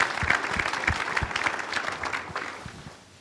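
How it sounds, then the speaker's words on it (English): A round of applause at a university soccer coach's introductory press conference. Distinct claps form a steady patter that fades toward the end, with a few crowd murmurs mixed in. "One more round of applause for them"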